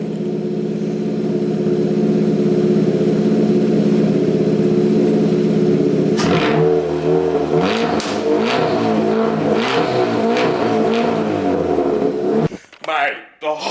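Ford Fiesta MK6 engine with no exhaust back box, idling with a loud steady drone before being revved hard in repeated bursts, then cutting off.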